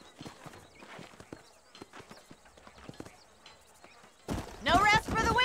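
Horses walk in the Red Dead Redemption video game, their hooves giving a light, irregular clip-clop at moderate distance, and a voice speaks near the end.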